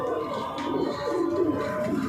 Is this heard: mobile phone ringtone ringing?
no